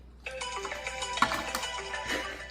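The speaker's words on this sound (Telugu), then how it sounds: "నేను వీడియో స్టార్ట్ చేయగానే ఫోన్లు వస్తాయి" A phone ringtone plays a short melodic pattern of bright electronic tones, fairly faint and alone in a quiet room.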